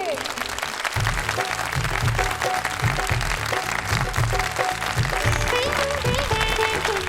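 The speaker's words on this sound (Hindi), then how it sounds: "तो जोरदार तालियां हो जाए हमारे जजेस के लिए।" Applause for the judges at a club prize ceremony, steady clapping blended with loud rhythmic music carrying a strong bass beat throughout.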